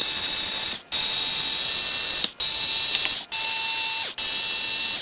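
An electric screwdriver unscrews the circuit board inside a TTi CPX400A bench power supply, running in four close, loud bursts separated by short gaps, with no talk.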